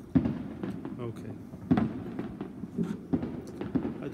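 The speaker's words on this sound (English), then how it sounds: "Can you hear the fireworks?" Fireworks going off outdoors at night, a string of sharp pops and bangs at irregular intervals, moderately distant, under a steady murmur of background voices.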